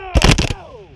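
A battalion of Civil War reenactors fires a single close, loud musket volley at a Battle of Richmond, Kentucky reenactment, a dense burst of overlapping shots followed by a fading rumble and echo.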